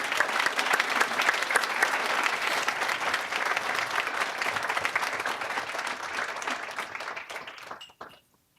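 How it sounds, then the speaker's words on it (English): A banquet audience applauds loudly and steadily for several seconds, then the clapping tapers off and stops. "can you guys give a round of applause for the nominees and the winners?"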